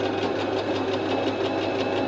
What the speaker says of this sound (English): It's been a long time since sewing machine's been out.